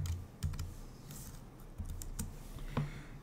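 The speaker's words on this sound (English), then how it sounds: "type in your email address, no matter what it says there." An email address being typed on a computer keyboard, clusters of close key clicks with short pauses over a soft background hum, no voices.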